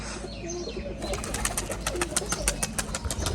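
Pigeons at a Rajshahi pigeon farm, a white pair coming down to land, with soft cooing followed by a run of rapid wingbeat flutters, close and moderately loud.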